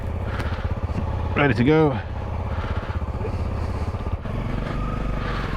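Motorcycles setting off in Morocco, with a steady engine rumble under the whole stretch and a brief rising rev in the middle, while people talk throughout.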